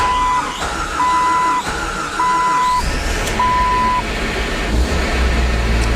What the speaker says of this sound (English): So this is just how long it takes to start right now.